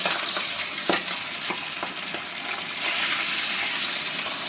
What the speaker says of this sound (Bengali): তেলটা গরম হতেই আমি একে একে সব ইলিশ মাছগুলো কড়াইতে ছেড়ে দিচ্ছি।